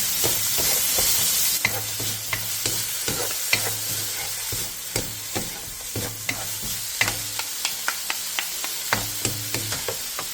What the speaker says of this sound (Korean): 팬에 기름을 두른 뒤 감자와 소금 3분의 2티스푼, 다진 마늘 반스푼을 넣고 센 불에서 2-3분간 볶아주세요